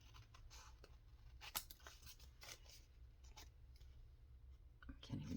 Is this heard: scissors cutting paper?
yes